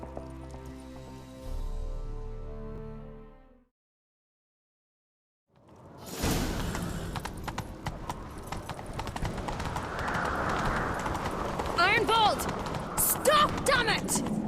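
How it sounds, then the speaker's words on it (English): Hooves clip-clop in a galloping rhythm from a horse ridden in The Witcher 3, following a spell of music and a brief silence, with other game sounds and speech mixed in. "Grab a horse, we'll chase him down."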